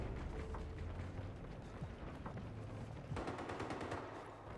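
Rapid gunfire in an online shooter game, including incoming sniper rifle shots. Dense, quiet crackling volleys run throughout, with a sharper cluster of shots near the end.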